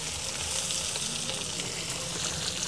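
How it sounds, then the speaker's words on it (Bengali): Chopped onion and green chilli fry with shrimp in a pan, making a soft, even, continuous sizzle with no voices over it. "পেঁয়াজকে এখন ভালো করে চিংড়ি মাছের সাথে ভাজলে"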